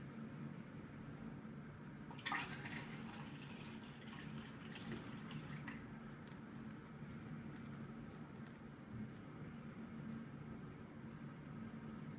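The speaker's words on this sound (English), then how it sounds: "So now I pour down the water." Steady water pouring into a coffee machine runs throughout, a continuous liquid rush with a few clinks and splashes near the start, no voices.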